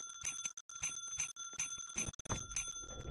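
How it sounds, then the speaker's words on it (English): A small bell pressed by hand rings out in repeated bright metallic tings, close and fairly clear, with a few pauses between strikes. "Maybe I could press this little bell."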